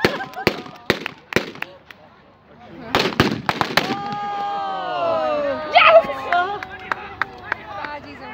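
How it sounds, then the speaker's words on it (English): Grenade blasts in a World War II shooter game, with sharp explosive cracks close together early on, followed by shouting voices and lingering battle noise. "Oh, grenade!"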